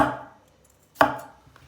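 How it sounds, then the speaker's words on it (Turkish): Two knife chops slicing potatoes into rings on a cutting board, spaced about a second apart, each a sharp close thud that quickly fades. "Patatesleri halka şeklinde doğrayacağız."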